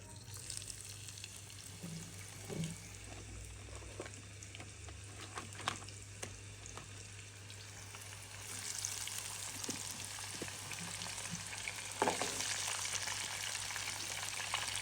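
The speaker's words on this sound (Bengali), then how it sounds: "আমি কাঁকড়াগুলো সব ফ্রাই করতে দিয়ে দিয়েছি" Crabs frying in hot oil, a steady close sizzle that runs throughout, with occasional clicks and taps from stirring and a brief louder burst near the end.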